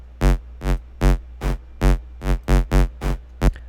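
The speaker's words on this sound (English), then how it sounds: "So I started off just with this square wave" A square-wave synth patch from Serum sounds in about nine short, evenly spaced buzzy stabs, each with dense harmonics over a steady low hum, loud and alone.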